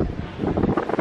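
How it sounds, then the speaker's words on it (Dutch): Strong, gusty wind roars across the microphone in rainy weather in Venice, loud and close with constant buffeting and no voices. "Het regent en het waait heel hard"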